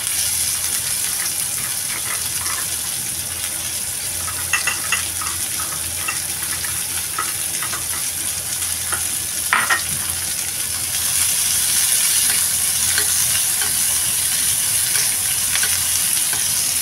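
White onion sautéing in a pan with garlic, a steady sizzle and fry with occasional stirring scrapes and clinks, close and continuous, growing a little louder toward the end.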